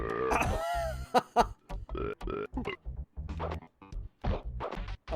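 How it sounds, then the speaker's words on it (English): Burp attacks fire in a Timon and Pumbaa style retro shooter video game, giving a rapid string of short gurgling burps and thwacking hits mixed with game effects. "I'm shooting things with my burps."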